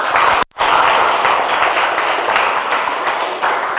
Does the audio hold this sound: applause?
yes